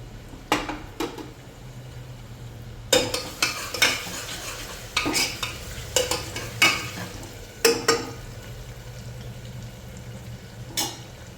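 Garlic-ginger paste and green chillies fry in a pan for a spicy Khandeshi-style chicken curry, with a steady low sizzle underneath and repeated sharp scrapes and clinks of a spoon stirring against the pan.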